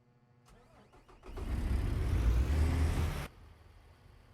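A Peterbilt truck engine in American Truck Simulator cranks over with a few starter clicks, catches and roars loudly for about two seconds, then settles back to a low idle with no talking.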